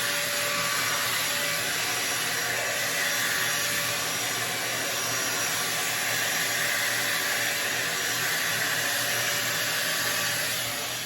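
A Dyson Airwrap dupe hair styler blows steadily while hair is being styled, a continuous loud airy whir with a slight motor hum that holds level throughout, with no talking.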